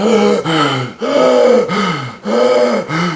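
A voice imitates heavy out-of-breath gasping like a runner after a hard sprint, with loud close breaths that alternate between inhaling and exhaling in a steady rhythm of about five strokes.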